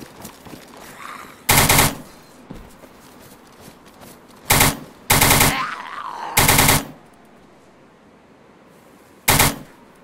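Bursts of automatic gunfire in the DayZ survival game, five sharp loud volleys of varying length spaced irregularly over a quiet ambient background.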